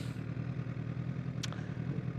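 Honda CBR1000RR Fireblade motorcycle engine, a low steady rumble throughout, moderately quiet and continuous with no talk.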